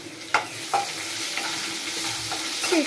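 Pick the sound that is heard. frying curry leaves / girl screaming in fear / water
frying curry leaves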